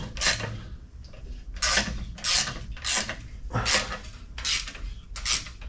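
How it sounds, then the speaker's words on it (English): Ratchet tightening engine mount bolts during a big-block engine install in a 1972 Chevelle SS, close rasping clicks in about seven repeated bursts with short pauses between strokes. "Get this thing bolted down before I mess with the front motor mount bolt."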